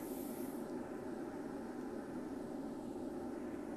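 Steady broadband roar of jet engines heard from inside an airplane cabin in flight, constant and loud throughout with no voices.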